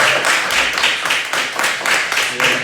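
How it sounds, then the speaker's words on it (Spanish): A church congregation claps loudly in a steady, rhythmic unison beat, a dense and close burst of hands with no talk over it. "yo le invito a que se brinden un aplauso a ustedes y le brinden un aplauso al Señor"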